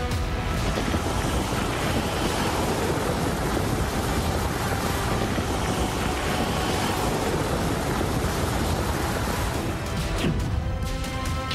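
Stormy sea surf during Cyclone Dana, a loud, unbroken roar of crashing waves mixed with gusting wind that buffets the microphone, with no voices.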